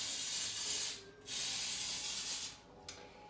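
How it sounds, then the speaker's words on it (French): Cooking spray hisses into muffin tins in two close bursts of broad airy spray, each about a second long, separated by a short pause, with a light clatter at the end. "Moi, je vais utiliser un spray parce que je fais ça rapidement aujourd'hui"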